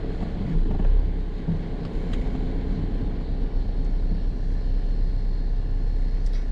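Car reversing slowly along a narrow road in Srinagar, a steady low engine rumble from inside the vehicle throughout, with no voices.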